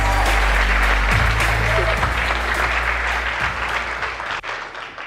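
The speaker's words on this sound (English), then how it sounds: "Big round of applause." Loud, continuous audience applause for award winners at a startup competition grand final, dense clapping over a low musical bed that gradually thins toward the end.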